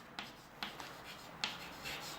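A few short, quiet taps and scrapes of writing on a board during a chemistry lesson on nitrobenzene, sparse and isolated against a faint room hiss.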